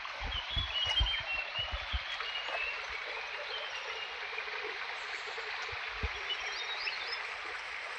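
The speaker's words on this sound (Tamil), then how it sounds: "தண்ணி ஓடுதா." A small stream trickling along a walking path in the hills of Valparai, giving a faint steady wash of water, with a few low thuds and bird chirps over it.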